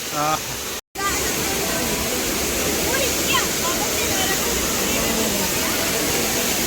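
Artificial waterfall at the Kochi water show pours down in a loud, steady broadband roar that fills the scene, briefly cut out near the start, with faint crowd voices beneath.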